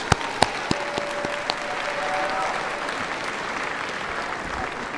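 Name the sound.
commencement audience applause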